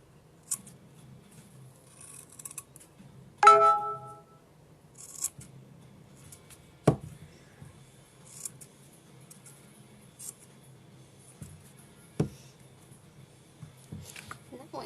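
Scissors trim overlapping fabric on the bottom of a fabric cup, giving a few sparse, close snips and soft rubbing sounds separated by quiet pauses, with a voice briefly in the background.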